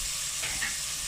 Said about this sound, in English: we're going to cook this in here, moving it around, getting it all coated with the fat for about 90 seconds, maybe 2 minutes